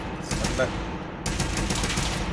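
T6M's Magnum Rifle fires full auto in Fallout 4, a dense, rapid burst of shots rolling continuously through the clip with a brief dip before resuming, a voice partly mixed in under the gunfire.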